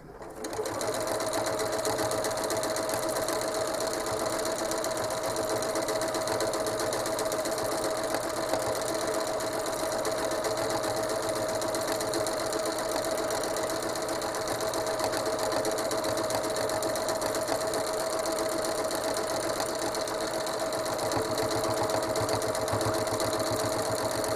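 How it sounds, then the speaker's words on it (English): Sewing machine stitching quilting fabric in switchback lines, a steady continuous whir with a constant high motor tone running the whole time, close and unbroken. "push my foot pedal, my foot pedal all the way to the ground, and wait till the needle starts moving"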